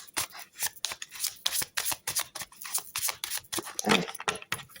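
Oracle cards being cut and handled: a quick series of soft, papery snaps and slides, close by and fairly quiet, with short pauses between the strokes.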